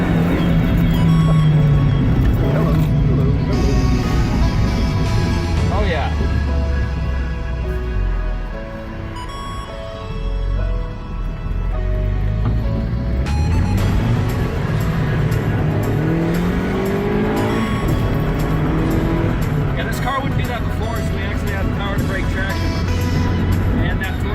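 A Mazda Miata engine revs hard and climbs through the gears, loud and close, with the pitch rising and falling over a long, continuous run.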